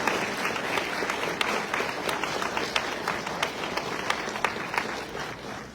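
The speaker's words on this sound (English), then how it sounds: "Applause, please, for your families, loved ones, and friends." A large audience at a White Coat Ceremony applauds steadily, dense clapping filling the room at an even level throughout.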